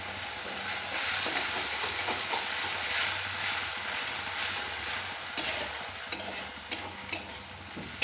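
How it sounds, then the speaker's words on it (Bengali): Masala frying in mutton fat for a chana potol dish, stirred steadily in a pan, producing a continuous broad sizzle with soft scraping and a few light taps toward the end. "এবারে ভালো করে মশলাটাকে কষিয়ে নিতে হবে"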